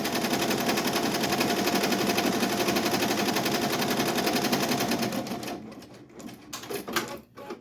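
Embroidery machine stitching a design onto a t-shirt, a fast, steady mechanical chatter of needle strikes that runs continuously, then breaks into slower, uneven clicks and stops near the end.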